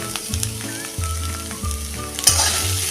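Yellow potato sabzi sautéed in a pan for a tiffin, with continuous sizzling and frying and repeated stirring scrapes, close and steady under soft background music.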